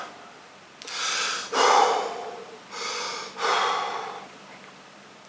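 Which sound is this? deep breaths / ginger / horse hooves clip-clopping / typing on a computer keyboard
deep breaths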